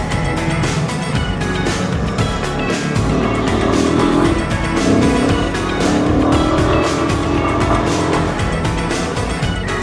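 A motorcycle rides along a winding ghat road, its engine droning loudly and close. Heavy wind rush blends in throughout, with no speech.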